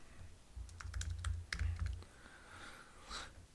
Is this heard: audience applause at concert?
no